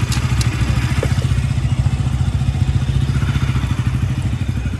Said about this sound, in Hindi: सुपर बाइक कोल्ड स्टार्ट है अभी।